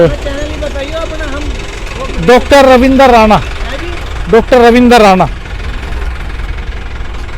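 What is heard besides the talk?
tractor engine running with sugarcane trolley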